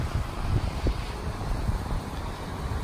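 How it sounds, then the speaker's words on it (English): Wind buffets an iPhone microphone outdoors, producing a loud, steady low rumble and roar with gusty surges that last the whole time. "Poor old iPhone, she don't like that wind very much."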